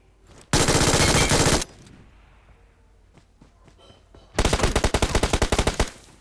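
Two bursts of rapid automatic gunfire in the BGMI mobile battle royale game, a loud sustained volley near the start and another choppier burst toward the end, with a quiet stretch of faint shots and rustling between.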